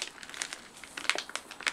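Heavily taped packaging of a Focusrite Scarlett 2i4 audio interface is pulled open, giving a brief burst of close crinkling and crackling plastic with quick, uneven rustles.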